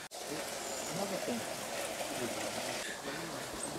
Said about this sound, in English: Like a little stream.